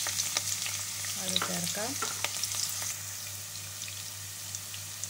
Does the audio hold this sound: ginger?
yes